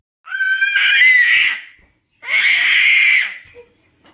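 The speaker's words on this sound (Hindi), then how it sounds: "दे दी नहीं दे, चिल्ला रही थी।" A young girl screams shrilly twice, close and loud. Each scream lasts over a second and there is a short gap between them.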